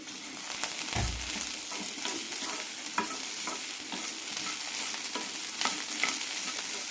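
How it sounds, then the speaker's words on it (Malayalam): Banana stem sautéing in a pan with red chillies and a Kashmiri chilli, a constant hissing sizzle with occasional soft taps and scrapes of a spoon. "മൂന്നാല് മിനിറ്റ് നന്നായി വഴറ്റി കൊടുക്കണം."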